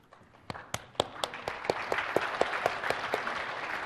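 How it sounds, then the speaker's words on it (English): Audience applause at a technical training session begins with a few scattered, distinct claps that quickly thicken into a fuller, continuous round of clapping, which keeps building toward the end. "Seems that you get all the applause here."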